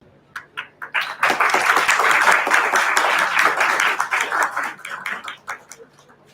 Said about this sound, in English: Everyone, please join me for a round of applause.